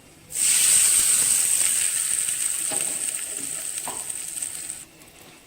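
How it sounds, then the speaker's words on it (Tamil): Mustard seeds, dal and curry leaves tempering in hot oil for carrot chutney, a loud steady sizzle that starts abruptly, holds for several seconds with a few small pops, then drops off near the end. "கருவேப்பிலை போட்டு இப்போ தாளிப்பை கொட்டிடலாம்"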